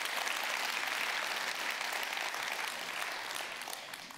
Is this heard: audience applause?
yes